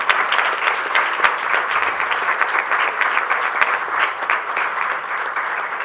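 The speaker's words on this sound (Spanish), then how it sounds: "le pido un aplauso a las compañeras de Mesa de Mujeres" Sustained audience applause at the closing of a panel on political violence against women, steady dense clapping from a sizable crowd throughout, fairly loud and close with no talk over it.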